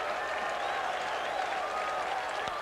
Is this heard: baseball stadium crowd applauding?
yes